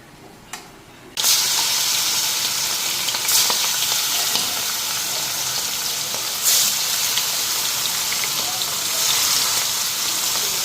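Chicken wing pieces sizzle loudly as they fry in hot oil in a pan, a steady bright hiss starting after a brief quiet moment, with a few sharper spits and no talking.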